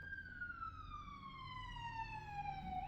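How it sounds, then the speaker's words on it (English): A single siren wail sweeping slowly downward in pitch, fairly faint, passing in the distance over low road rumble. "I'm gonna have some sirens now"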